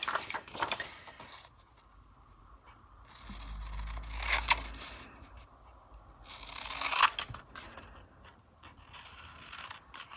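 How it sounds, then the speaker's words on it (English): Scissors trimming paper for a planner, with close, crisp snipping and slicing strokes in a few separate bursts and quiet pauses between them. "It's a little bit tricky when you get to the top because you don't want to cut too much out."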